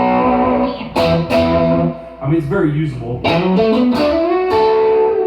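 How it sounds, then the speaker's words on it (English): An electric guitar played through the Boss GT-1 JCM 800 amp model with a little reverb, giving a crunchy distorted tone with ringing chords and short lines, and someone talking over the playing. "This is just the JCM 800 with a little reverb on it."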